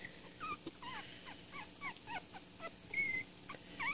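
Young puppies whimper and yip in a rapid string of high, rising and falling squeals, close and fairly soft, repeating through the whole moment with no talk over them.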